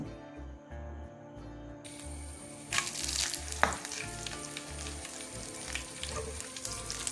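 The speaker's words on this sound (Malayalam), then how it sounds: "കുറച്ച് വെളിച്ചെണ്ണ ഒഴിച്ചിട്ടുണ്ട് അതിലേക്ക് ആവശ്യത്തിന് കടുക് ഇടുക" Mustard seeds frying in coconut oil sizzle steadily, with a faint rhythmic low thumping beneath and a louder burst of crackling and popping partway through.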